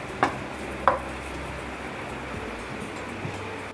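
Besan masala roasting and being stirred in a pan for a dhaba-style lehsuni palak gives a faint, steady low sizzle, with two brief scraping clinks near the start.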